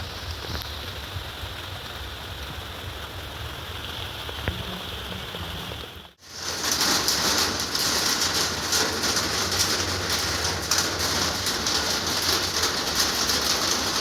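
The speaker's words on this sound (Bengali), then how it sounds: "ঝিরঝির করে বৃষ্টি শুরু হয়ে গেছে।" Light drizzling rain falls outdoors behind a house, a steady hiss that cuts out briefly and returns louder and denser, with faint bird calls early on.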